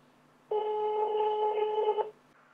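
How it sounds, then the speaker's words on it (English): A NEOWAY M590 GSM module in an SMS security alarm project rings when dialed, giving one steady electronic ring tone of about one and a half seconds, clear and close over near silence. "if I now dial the device, so we can hear it ringing"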